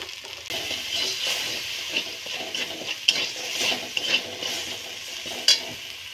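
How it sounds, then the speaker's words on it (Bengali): Spices seasoned with salt and turmeric fry in hot oil for a fish curry, giving a steady close sizzle and hiss with a few sharp pops and scraping stirs. "তেল গরম হয়ে গেছে, এবার মশলাটা ভেজে নিই।"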